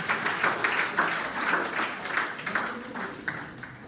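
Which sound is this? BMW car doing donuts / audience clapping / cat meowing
audience clapping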